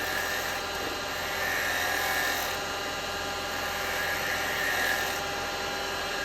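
Detail chisel cutting a wooden bowl turning on a lathe in a workshop, a steady continuous whirring hiss with a constant drone underneath, close and even throughout without talk.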